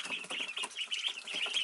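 Young ducklings and chicks about a week and a half old peep in a brooder, a steady stream of high, overlapping chirps close by with no talking.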